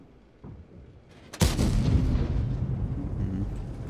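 An Object 274a tank cannon fires an armor-piercing round in World of Tanks: one sudden, loud close blast followed by a long rolling rumble, with quieter engine noise before it.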